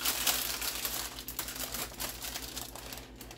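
Crisp crinkling of parchment paper being pressed and handled up close, a busy rustle that eases slightly toward the end.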